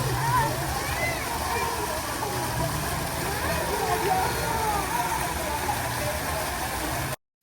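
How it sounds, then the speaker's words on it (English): Children play and splash in a public fountain in Oaxaca, Mexico, a steady wash of falling water and scattered splashes under distant street noise, with an engine-like hum running throughout. "the children having a great time, just playing in the fountain and splashing."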